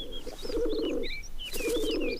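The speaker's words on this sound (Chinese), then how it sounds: "哎呀，鸽子" A pigeon gives two rolling, throaty coos in quick succession, each lasting about half a second, with thin chirps from other birds scattered above them in an otherwise quiet outdoor setting.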